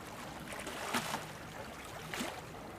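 Gentle water from small boat wakes laps against shore rocks, with two soft splashes standing out over a quiet watery ambience.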